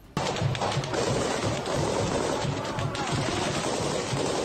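Continuous rapid gunfire from Chechen special forces fighters firing on a building rattles without pause, dense and sustained like several weapons firing at once, with a faint voice underneath.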